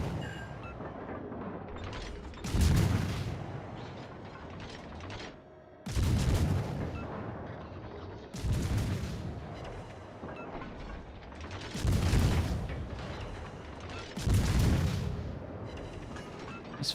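Naval guns boom in World of Warships: Legends, heavy salvos of shells fired in a slow regular rhythm, five loud blasts a few seconds apart, each with a rumbling tail, with no talking.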